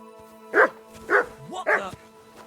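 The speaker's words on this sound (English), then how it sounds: "What does that mutt want over here?" A dog in the medieval video game Kingdom Come: Deliverance II gives three separate barks at a steady pace, clear and fairly close, over a low background hum.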